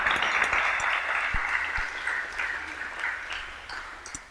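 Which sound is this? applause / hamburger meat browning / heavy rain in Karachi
applause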